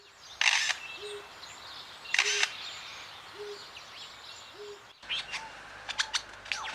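A bird imitating a photographer's camera shutter in the Australian wild, giving several sharp clicking bursts in a steady rhythm followed by a quick run of chirps, close and clear over quiet background.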